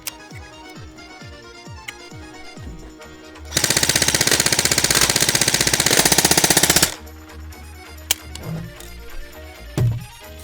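A BY-023 AK-47 airsoft rifle fires full auto in one loud rapid burst of about three seconds, with clicks and handling sounds before and after it.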